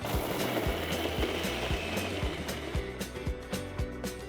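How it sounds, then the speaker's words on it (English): Kitchen grinder blending onions, green chilies and ginger for a Goan pomfret curry, a close, loud motor whir with a rapid, regular chopping thump as the jar contents churn, no talk. "After running it in the grinder just for a few seconds"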